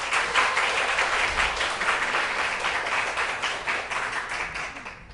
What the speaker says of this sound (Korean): 격려하는 의미에서 박수 한번 합시다